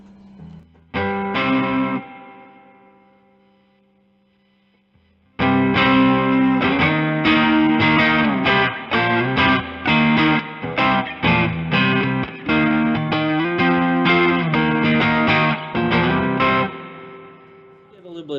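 Heavily distorted electric guitar through a KOKKO FOD3 overdrive pedal, a Tube Screamer clone, plays a short phrase, pauses, then launches into a loud, sustained run of crunchy overdriven chords and notes.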